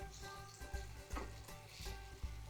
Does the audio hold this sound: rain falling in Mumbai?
no